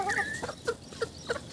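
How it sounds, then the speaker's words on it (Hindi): Free-ranging chickens let out a few soft clucks, short scattered calls spaced about a third of a second apart, close by and moderately quiet. "जी सब मुर्गे बाहर निकल गई है"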